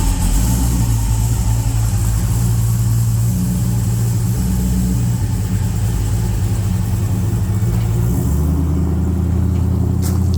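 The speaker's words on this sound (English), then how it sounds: "that's all right for a church van motor. Yeah, that sounds okay. A little straight 6" A straight-six engine in a church van idles with a steady, rowdy rumble, close and loud, its tone shifting slightly near the end without any speech over it.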